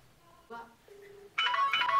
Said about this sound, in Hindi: देखो अभी मैं इसके अंदर फोन लगाता हूँ तो इसमें आवाज आएगी